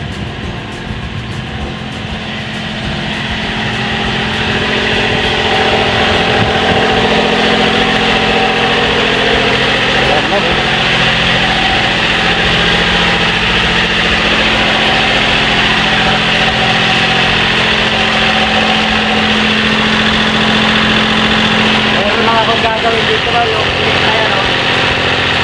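A boat engine idles continuously for the whole stretch, a steady mid-pitched rumble with vibration and a slight wavering, while a voice speaks over it at times.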